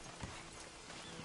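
Horse hooves clip-clop in Red Dead Redemption 2, a short, soft run of steady hoof falls beneath a constant low game background.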